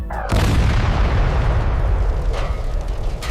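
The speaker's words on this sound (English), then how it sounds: "Add explosion." A single heavy AI-generated explosion effect booms in after a brief pause, then a long rumbling roar and debris wash decaying over several seconds, loud and close with no talk.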